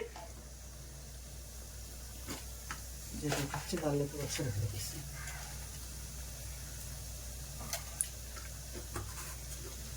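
Cumin seeds frying in a pan for Andhra-style gongura pachadi, with a faint low sizzle and soft crackles, plus a few louder clatters and stirring sounds in the middle.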